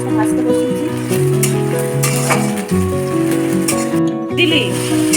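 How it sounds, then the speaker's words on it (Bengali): Onions fry in oil in a pan, giving a continuous sizzle beneath a voice talking throughout. "হ্যাঁ, আমি পেঁয়াজটা ভাজতে বসিয়েছি।"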